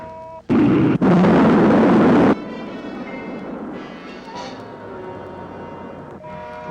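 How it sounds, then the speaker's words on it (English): A rocket's second stage fires in a 1958 sci-fi film with a sudden loud roaring blast. It cuts out after a couple of seconds into a lower rumble with tonal hum. "Rocket 2, second stage. Fire."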